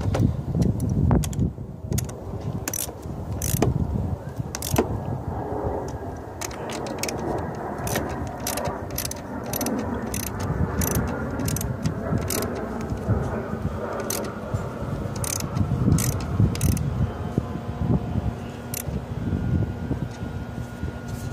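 Ratchet fitted with a socket tightening the battery hold-down on a 2014 Kia Cadenza, giving quick runs of sharp clicks spread across the clip over a steady low background rumble.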